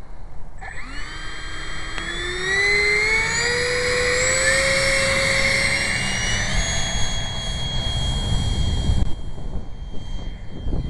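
A Habu radio-controlled model jet takes off and flies. The loud, steady turbine whine rises in pitch as it spools up, then holds a high, sustained scream with a rushing roar beneath it, and no voices are heard.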